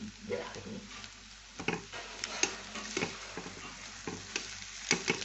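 A spiced mixture sautéing (kosha) in a pan for a Bengali snack, with a steady low sizzle and frying crackle punctuated by irregular scraping and stirring clinks of a utensil against the pan.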